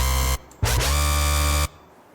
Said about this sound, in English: but it's bass scream from dubstep electro 2.